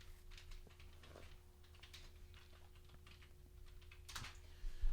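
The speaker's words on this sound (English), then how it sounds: "Is that what I'm typing in?" Computer keyboard typing during a disc golf podcast recording, a run of quiet, uneven keystrokes close to the microphone over a steady low hum, with a slightly louder burst near the end.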